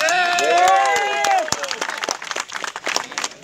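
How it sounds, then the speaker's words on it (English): A crowd claps for the petrol-category winners of an off-road jeep racing competition in Thrissur. A voice talks over the opening moments, then dense, crackling handclaps carry on alone close by. "Once again, huge round of applause."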